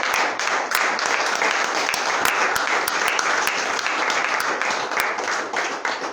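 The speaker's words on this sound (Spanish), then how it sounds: "doy un aplauso fuerte al Señor" Loud, steady applause from a church congregation fills the whole stretch, dense clapping with a few sharper claps standing out, no pause throughout.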